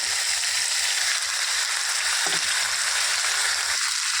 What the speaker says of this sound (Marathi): तेल गरम झालं की त्यात हे फ्लावर, वाटाणे आणि बटाटे टाकून देऊ